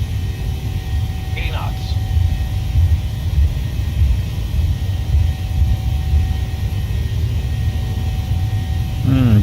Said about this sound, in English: Alright, we are rolling runway 8 at Jacksonville.